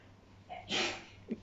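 A Shiba Inu dog gives one sharp, close sneeze with a small snort right after, against a quiet indoor background.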